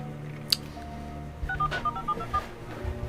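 A phone number is dialed to call someone back: a string of short, evenly spaced touch-tone beeps, clear and close, following a brief click.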